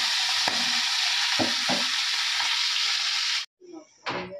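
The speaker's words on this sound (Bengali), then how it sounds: "এখানে মাছগুলো ভাজা হয়ে গেছে" Fish fry in a hot pan with a loud, steady sizzle that fills the first few seconds, then the crackle cuts off abruptly, leaving a few faint clinks and a short final burst of frying.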